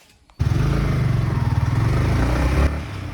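A new Royal Enfield Himalayan motorcycle rides with its engine throbbing, a close, loud, rhythmic low rumble that kicks in suddenly and pulses steadily before easing off near the end.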